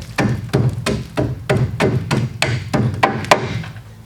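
Caked mud is knocked off a car radiator with about a dozen sharp, hard strikes in a quick uneven rhythm, each a close, loud thwack.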